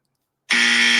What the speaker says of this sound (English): Can I just test the buzzer real quick?